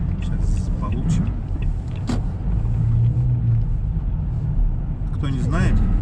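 A car drives through the frozen town of Mirny in Yakutia, its steady low engine and road rumble running throughout, with someone talking over the noise.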